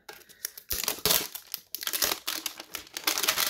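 Plastic packaging crinkles and tears at close range while a Pokémon card tin is opened, a series of irregular crackling bursts with short pauses between them.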